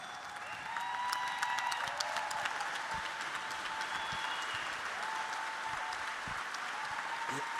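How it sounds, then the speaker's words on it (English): An audience at a conversation event applauds together, a sustained burst of dense clapping that starts abruptly and holds steady, with faint voices and scattered whistles mixed in. "can we all stand up and give this man a round of applause?"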